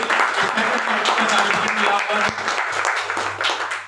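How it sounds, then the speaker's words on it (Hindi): Loud, steady applause from a crowd, continuous for the whole stretch, with some voices mixed in. "तो एक बार जोरदार तालियां होनी चाहिए"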